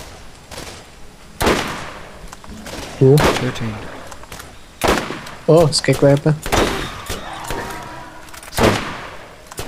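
Several sharp, loud shotgun blasts in the video game Borderlands burst out at irregular intervals, mixed with excited talking and other combat effects.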